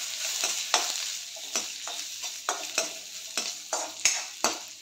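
Cashews and raisins fry in a pan, giving a constant sizzle punctuated by regular stirring scrapes every half second or so, close and fairly loud with no voices.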